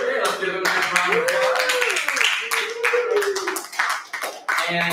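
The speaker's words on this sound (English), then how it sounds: "Let's give her a nice round of applause." A small church congregation at a Sunday evening service claps for birthdays, sparse distinct handclaps close by, with voices cheering and talking over them throughout.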